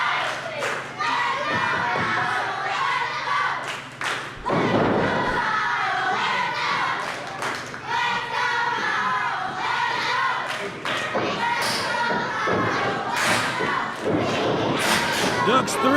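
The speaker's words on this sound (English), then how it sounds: "the chants start." At an independent wrestling event, a crowd chants and shouts over a loud, busy arena din, with occasional thuds and a commentator's voice running through.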